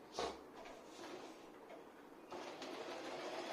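A Singer 8280 sewing machine stitches a small piece of fabric, giving a quiet, steady mechanical whir that starts with a brief knock and grows slightly louder toward the end.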